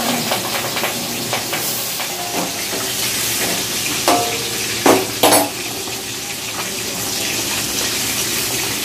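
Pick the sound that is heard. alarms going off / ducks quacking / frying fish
frying fish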